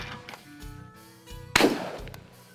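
A single rifle gunshot at a shooting range, one sharp, loud crack with a short decaying tail, following a few faint murmurs of voices.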